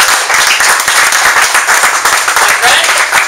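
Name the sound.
audience applause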